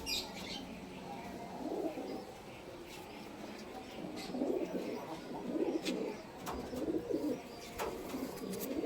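Kamagar pigeons, a Pakistani high-flying breed kept in a breeding pair, coo in low repeated rolling bursts close by, with a few sharp chirps and brief wing flutters over steady background noise.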